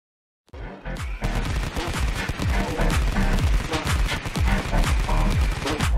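Toy soldiers fire their guns in a stop-motion war scene. After a moment of silence, loud rapid bursts of gunfire and booms break out and keep going without a break.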